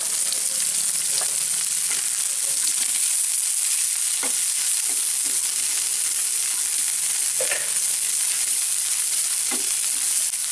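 Cumin, green chilli, onion and curry leaves fry in hot oil with a steady crackling sizzle, punctuated by occasional spatula stirs and scrapes, no one speaking.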